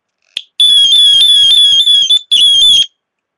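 A personal security alarm siren set off by pulling its string: a brief chirp, then a loud, piercing, continuous electronic shriek that cuts out for a moment and sounds again, close and alone.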